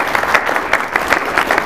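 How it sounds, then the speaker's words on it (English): A live presentation audience breaks into a round of applause, dense steady clapping from a crowd, close and loud, lasting the whole moment without a break. "Let's give him a round of applause."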